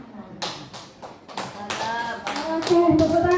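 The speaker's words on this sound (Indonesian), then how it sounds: "tepuk tangan lagi dong untuk kita semua" An audience at an evening school dissemination event applauds, a burst of hand clapping that grows fuller and louder toward the end, with voices mixed in.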